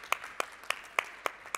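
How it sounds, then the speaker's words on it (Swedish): A few sparse, separate claps ring out in a live studio broadcast from a central station as a guest is welcomed. About six sharp hand claps are spaced roughly evenly, faint against a quiet room. "En applåd för honom."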